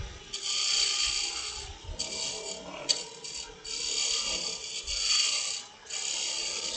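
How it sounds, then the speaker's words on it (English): A roughing gouge cuts into a wooden snowman spinning on a woodturning lathe, giving a close, steady rasping scrape in several long passes separated by short breaks. "I'm going to do a really quick thing with my roughing gouge"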